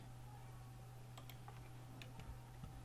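Computer keyboard keys pressed to center an element while editing in Canva, a few faint, sparse clicks over a low steady hum, alone without talk.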